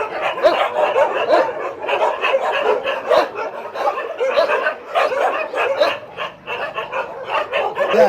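Rescued dogs at a shelter in Thailand bark and yelp continuously, several animals overlapping in a dense, close chorus with a few whimpers, no clear pauses throughout.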